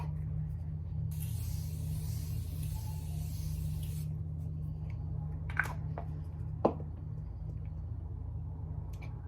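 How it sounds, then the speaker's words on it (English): Morphe Continuous Setting Mist sprays in one steady hiss of about three seconds over a quiet room hum, followed by a couple of faint clicks. "I'm going to go in with the Morphe Continuous Setting Mist."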